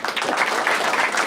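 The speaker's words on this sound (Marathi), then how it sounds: "एकदा जोरदार टाळ्या वाजवा" Audience applause bursts out at a Marathi stand-up comedy crowd-work show, a dense, steady wash of clapping that stays loud for the whole moment.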